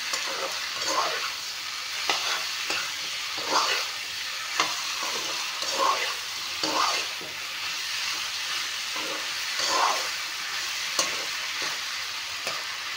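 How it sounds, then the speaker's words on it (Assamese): Chicken pieces frying with spices in a hot pan, a steady sizzle broken by repeated stirring scrapes at a loose, uneven rhythm, close and moderately loud throughout. "চিকেনখিনি ভালদৰে ভাজি ল'লোঁ।"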